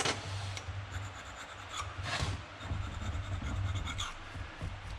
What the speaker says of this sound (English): So I just took a general purpose wire brush